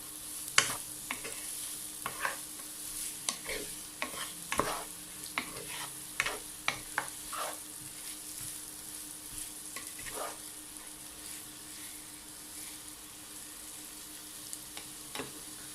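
Onion frying in a pan for a fish dish is stirred repeatedly, with a continuous soft sizzle broken by frequent sharp scrapes and clinks of the utensil against the pan.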